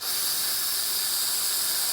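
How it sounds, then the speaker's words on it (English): A continuous hiss of a spray adhesive aerosol can, close and steady for a couple of seconds. "just going to use a little spray adhesive"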